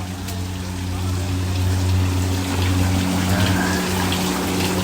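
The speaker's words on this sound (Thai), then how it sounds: "ในถ้ำเป็นน้ำตก เย็นนะครับ" A waterfall inside a cave gives a continuous splashing rush of water with a low steady hum running beneath it, heard close and with no speech.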